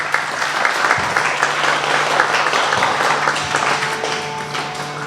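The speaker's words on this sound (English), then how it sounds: "Give them a big clap" A school award assembly's audience applauds recipients with steady, dense clapping that fills the hall for the whole stretch, with no voices over it.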